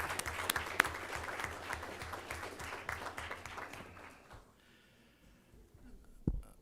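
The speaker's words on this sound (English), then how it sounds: "I think we got to do a big round of applause" A school board meeting audience in Lynbrook claps in a round of applause that is steady and fairly dense at first, then thins out and fades, ending with a single louder thump near the close.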